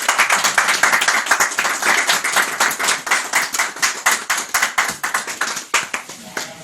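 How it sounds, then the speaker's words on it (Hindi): Audience at a bullion merchants' and Delhi Police security meeting clapping to welcome a guest, loud close rhythmic claps from a modest group, steady then thinning and becoming more scattered toward the end. "मैडम जी का भी तालियों से स्वागत किया जाए।"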